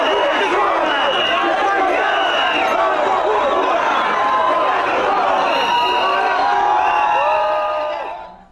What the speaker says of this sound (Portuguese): o governador deixou o local vaiado pelos professores